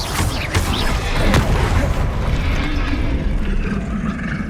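Confringo fire-blast spells explode amid continuous combat in Hogwarts Legacy on PS5, a dense, loud roar of booms and bursts with no clear gaps.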